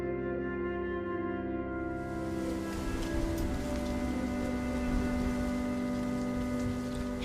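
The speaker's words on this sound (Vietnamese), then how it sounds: "Khi những cơn mưa bắt đầu trút xuống rừng rậm, nước dâng cao báo hiệu một chu kỳ sinh sản mới." Rain pours steadily on the Amazon jungle, a dense, even hiss of drops on leaves and ground that sets in within the first seconds and continues unbroken, with no voices.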